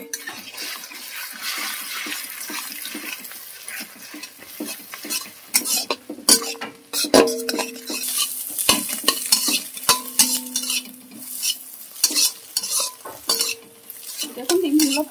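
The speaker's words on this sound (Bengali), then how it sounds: "দিয়ে আমি ডিমগুলোকে ভালো করে ভেজে তুলে নেব" Eggs frying in white oil with green chilli, ginger and garlic, a close steady sizzle broken by clattering spoon strokes and sharp spitting bursts, no one speaking.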